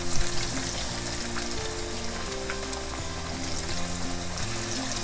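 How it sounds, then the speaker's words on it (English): Potato slices frying in oil in a pan for Greek moussaka, a steady dense sizzle with crackling pops that runs unbroken at even loudness, close and alone without any voices. "Don't those potatoes look great cooking like that?"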